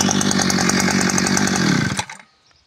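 A petrol brush cutter's two-stroke engine runs steadily and loud right after being started, a buzzing drone for about two seconds before cutting out abruptly into near silence.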